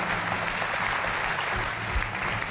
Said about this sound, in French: Bertrand, qu'on peut applaudir,